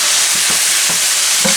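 Swiss chard sizzles loudly in a hot pan as a utensil stirs it, with a steady frying hiss and a few soft scraping strokes over about a second and a half.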